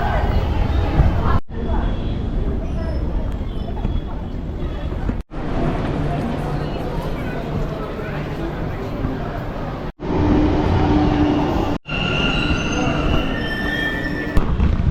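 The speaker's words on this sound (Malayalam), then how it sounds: "നമ്മൾ ചിക്പേട്ടിൽ നിന്ന് വിധാൻ സൗദയിലേക്ക് മെട്രോയിൽ വന്നിരിക്കുക" Riding a Bengaluru metro train from Chickpet station toward Vidhana Soudha: a loud, continuous rumble of wheels and car noise with squeals, interrupted by brief cuts, while a crowd of passengers murmurs in the background.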